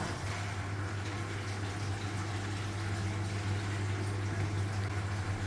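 Dishwasher draining water, a steady loud rushing gurgle over a low pump hum that runs unbroken for several seconds.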